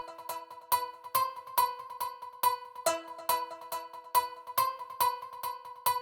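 An Expand synth on the Filter Slap preset hits a repeating bright, metallic pluck pattern with sharp attacks and ringing tones around a steady pitch, looping evenly at moderate volume with nothing else playing.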